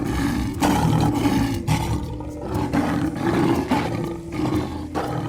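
A lion roars in a series of loud, rough bursts while attacking a man, with deep growling blasts that rise and fall close up and no one speaking.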